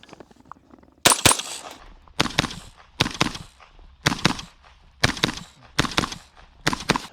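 A Bear Creek Arsenal BC-22 Magnum rifle fires Winchester rounds, eight sharp, loud shots in a fairly steady cadence, each cracking report followed by a short decay, with near silence before the first.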